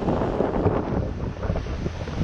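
Gentle ocean surf washes onto a beach on a calm day with low swell, a steady rushing wash mixed with wind buffeting the microphone, no talking.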